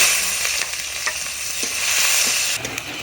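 Chopped onion hits hot oil in a wok with cinnamon, bay leaves, cloves and peppercorns, giving a close, steady sizzle with light stirring scrapes for a few seconds.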